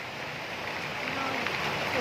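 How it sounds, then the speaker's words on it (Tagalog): Heavy rain pours during a motorbike outing, a steady broadband hiss holding level throughout and swelling slightly at the end. "Grabe naman talagang ulan kasi oh."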